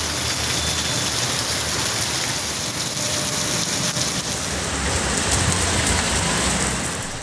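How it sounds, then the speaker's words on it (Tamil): Heavy thunderstorm rain in Tamil Nadu pours down in a dense, unbroken hiss and roar, loud and steady throughout with no voices. "இடியுடன் கூடிய பலத்த மழை பெய்தது"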